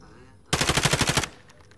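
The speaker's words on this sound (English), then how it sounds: "Who the fuck is Jack shooting?" A tight burst of about ten rapid automatic shots in Call of Duty Warzone, loud and close, lasting under a second before stopping abruptly.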